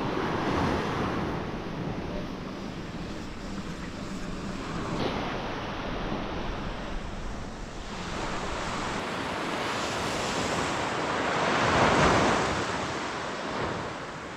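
Sea waves roll and wash onto a UK beach on a bikepacking trip, a broad continuous surf roar that swells near the end, mixed with wind buffeting the microphone and no voices.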